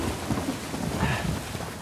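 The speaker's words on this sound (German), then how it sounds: "Es regnet" Rain and a low thunder rumble rise from the Uncharted 4 game world as a constant wash of heavy rainfall, with a deeper rolling swell in the middle and no speech.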